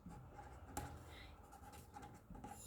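A pen scratches across paper, soft irregular strokes with one sharper tap near the start, quiet and close, with no talking.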